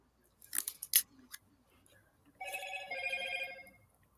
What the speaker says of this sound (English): Oh, my phone's telling me we're live.